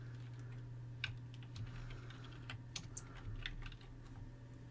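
Quick typing on a computer keyboard while entering a search in VS Code: about a dozen light, crisp key clicks in short irregular bursts over a low steady hum, close and fairly faint.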